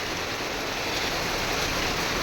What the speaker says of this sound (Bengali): এদিকে দেখো জোরে বৃষ্টি হচ্ছে, দেখেছো কি জোরে বৃষ্টিটা হচ্ছে, মুষলধারায়